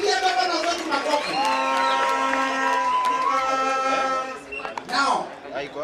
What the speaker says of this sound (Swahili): Tupigie governors wetu makofi.